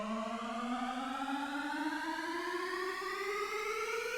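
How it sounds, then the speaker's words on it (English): Synth riser in a future bass track made in LMMS, a loud, buzzy, harmonic-rich tone climbing steadily in pitch for the full four seconds. "And then you have your little riser thing."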